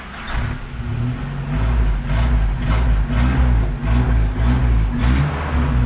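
A 1995 Toyota Kijang Grand Extra engine running after a starter test, a steady low rumble with a rhythmic pulsing beat that swells slightly, close and loud with no talking.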